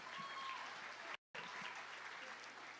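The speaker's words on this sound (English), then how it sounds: "What a polite applause." Polite applause from a convention audience at a Supernatural fan panel in Chicago, a steady wash of many hands clapping that breaks off for a moment and then resumes, fairly even in level.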